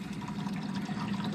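Old gasoline, four or five years stale, drains from a boat's fuel tank in a steady, continuous liquid pour, close and moderately loud, with no talk over it.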